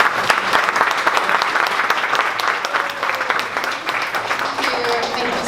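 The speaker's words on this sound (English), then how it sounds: "can you guys stand up and give Vera a round of applause" A standing audience at a Dallas startup pitch event applauds Vera, one of a company's founders, with loud, sustained clapping and scattered sharp claps, and a few voices murmur beneath it.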